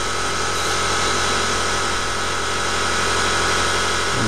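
A small CNC lathe cuts a Delrin part, producing a steady, loud machine drone with a constant motor hum and even cutting noise, no pauses and no talk.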